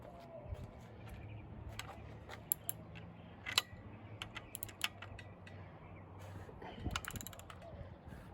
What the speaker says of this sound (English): Stupid Pittsburgh ratchet.